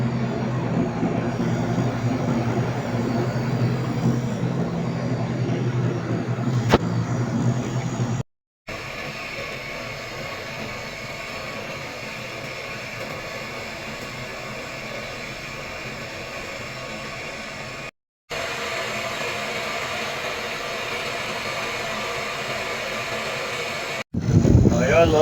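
A vacuum pump evacuating an FCU air conditioning system runs with a steady, loud mechanical whir and hiss, cut by brief silent breaks, continuous and close.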